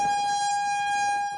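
A loud, sustained outdoor warning siren wail in Wichita holds one steady tone with strong overtones, sounding alone without any talk.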